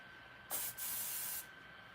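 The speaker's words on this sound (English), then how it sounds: "So we just spray it" Hair spray hits braided hair in a short hissing puff followed at once by a longer steady spray burst, close and clear against a quiet room.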